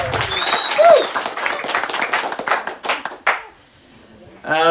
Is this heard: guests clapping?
yes